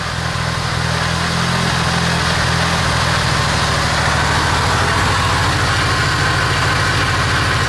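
A Smart car engine idles roughly just after restarting, a loud close continuous rumble with an uneven, lumpy low pulse that shifts slightly partway through, with no talk.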